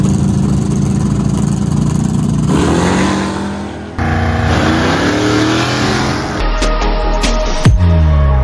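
A turbocharged drag racing car engine runs at a street drag event in Los Mochis, Sinaloa, close and loud. Its pitch climbs and falls through several rising revs and shifts before settling lower.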